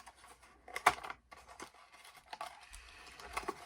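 Small brow scissors handled while a beauty subscription bag is unboxed: faint, sparse clicks and rustles with one sharper snip-like tick, close and quiet, with no talking.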